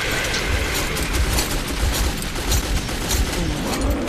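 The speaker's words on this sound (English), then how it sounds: "I might have to start using the gun now." Gunfire in the video game Metro 2033, a continuous muffled rattle of rifle shots with low booms underneath, steady and fairly loud with no speech.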